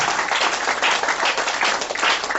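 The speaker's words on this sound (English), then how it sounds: "Clap your hand for having a caring father." A church congregation claps together in steady, dense applause that fills the space evenly from start to finish, with no voices rising above the sound of the hands.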